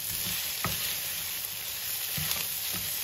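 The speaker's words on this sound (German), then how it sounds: "Und jetzt wird das Ganze auch nochmal kräftig umgerührt." Steady, loud sizzling of beef, rice and carrots frying in a pan, with a few short scraping knocks as the contents are stirred.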